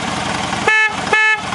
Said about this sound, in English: There's the current horn